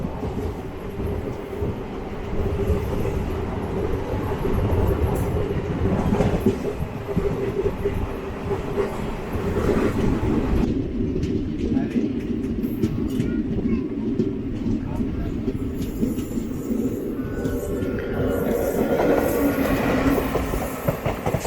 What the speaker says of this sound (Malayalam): പാലരുവി എക്സ്പ്രസ് ആണ് 22785 ആരക്കോണം